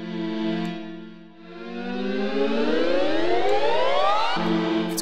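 A Primer 2 synthesizer on iOS, with a pitch envelope routed to both oscillators: a steady buzzy tone dips, then sweeps smoothly upward in a long rising glide before snapping back down, clear and alone with no talking.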